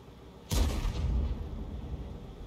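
A robot's weapon fires once in a video game battle: a single loud, close blast with a deep rumbling tail that fades slowly over a couple of seconds, with no talk.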